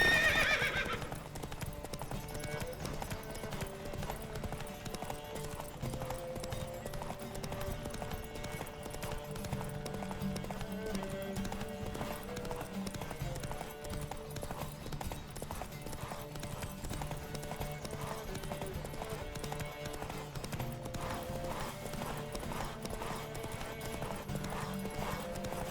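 Horses gallop in a race in The Witcher 3 video game, with steady rapid hoofbeats running throughout alongside a neigh near the start and a continuous music bed underneath.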